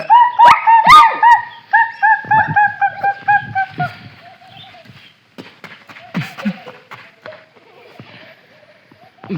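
A dog barks loudly and repeatedly in a close burst at the start during Rangpanchami colour play, then gives softer yelps and whimpers amid background voices and clatter.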